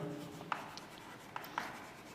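Writing on a board during a maths lesson: a few quiet, brief taps and scratches of the pen or chalk spaced over about two seconds, faint against a soft room hum.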